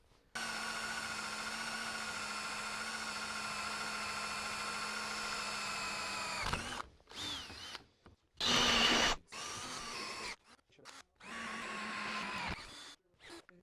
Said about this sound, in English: We're going to punch a hole through the top and bottom of this pipe